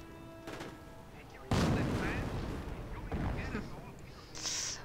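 A V-1 rocket strike in Company of Heroes lands as a sudden loud boom partway through, followed by rumbling explosions and scattered gunfire-like crackle, with a brighter burst near the end.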